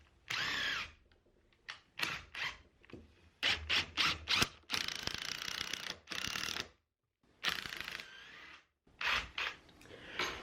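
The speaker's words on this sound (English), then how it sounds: "get some screws in here to hold this to the rest of the frame" A power drill drives screws into a wooden door awning frame in a workshop, close and loud, in repeated short bursts and longer runs separated by brief pauses, with a ratcheting clutch sound on some runs.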